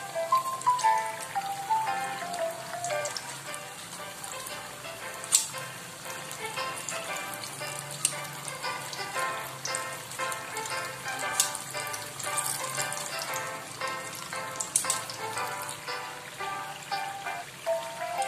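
Bananas sizzle and crackle in hot oil throughout, with a dense, steady spatter and occasional sharper pops, close up and without talking.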